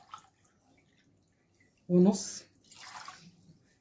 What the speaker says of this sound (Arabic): يبقى مجين ونص من الميه